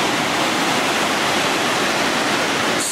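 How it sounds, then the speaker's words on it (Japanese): Awamata waterfall in the Yoro Valley, heard from its base as a steady, loud broadband roar of falling water with no talking. "これが粟又の滝の上から下"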